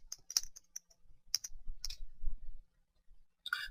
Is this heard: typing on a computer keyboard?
yes